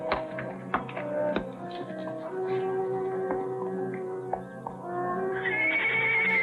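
A horse whinnies and neighs in a 1950s western setting, with a shrill rising call over faint clopping and tapping.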